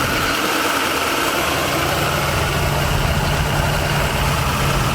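Engine of a 1979 Chevy G20 custom van while driving, a loud, steady low rumble and drone filling the whole cabin without a break.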